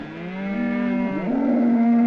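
Cattle moo in a herd on an open range, a long, loud bellow that rises and steadies into a sustained low call, close by, with no talk over it.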